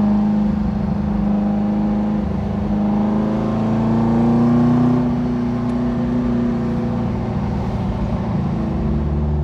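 A Beck Porsche 550 Spyder replica drives along with a steady, loud engine drone heard from on board, its pitch rising gently as it accelerates and then settling back.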